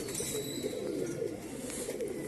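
Pigeons in a fancier's loft in Allahabad give a soft, continuous cooing murmur, fairly close and steady throughout, with no one speaking.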